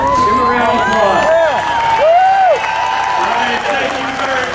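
Crowd at a Denver Tea Party rally clapping and cheering, a loud sustained wash of applause with shouts and whistles rising over it.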